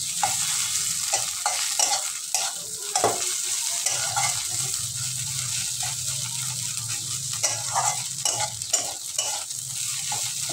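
Pointed gourd dolma filling being stirred and mixed with garam masala powder in a hot pan, a continuous close sizzle with repeated scraping and clinking strokes in an uneven rhythm.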